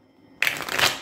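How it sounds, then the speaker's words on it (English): Tarot cards shuffled in a single quick burst: silence, then a sudden loud papery riffle of flicking card edges that lasts about half a second, close up and with no voice over it. "One last shuffle, Leo, you versus them."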